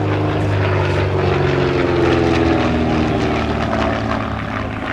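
A fully aerobatic propeller aircraft performs at the East Kirkby Airshow in 2019, its engine droning loud and steady with a strong tonal hum and shifting pitch as it passes overhead.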